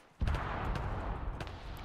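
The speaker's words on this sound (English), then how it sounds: "That was a good explosion." A sudden loud video game explosion, in ArchEnemies, breaks out with a boom and rolls on as a sustained rumbling roar, with a few faint sharper cracks inside it.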